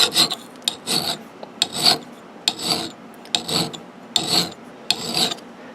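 An axe edge being sharpened with an abrasive, giving seven loud, regular rasping strokes with short pauses between, close up and with no talking.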